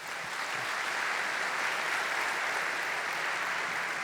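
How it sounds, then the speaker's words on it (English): Conference audience at a startup event applauds in an even, sustained wash of many hands clapping, moderately loud and uninterrupted, with no voices standing out. "If we can give her a round of applause,"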